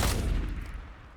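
A single heavy gunshot booms in a video game, close and loud, with a rumbling decay that fades over about a second.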